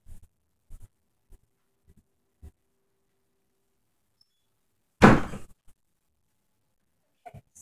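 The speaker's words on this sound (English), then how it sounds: "Wait, I'm gonna go close the door." A door is pulled shut indoors with one solid thunk and a short rattle, standing out against a quiet room with a few faint taps around it.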